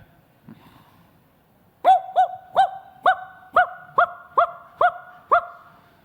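A dog barks nine times in a regular, evenly spaced run, loud and close, after a brief quiet stretch with faint background noise.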